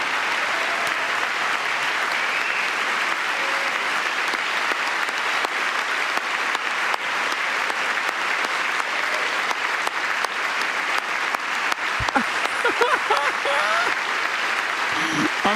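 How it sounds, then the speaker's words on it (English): Sustained applause fills a joint session of Congress during a presidential address, a dense, even clatter of many hands that continues throughout, with a brief voice near the end. "She's clapping."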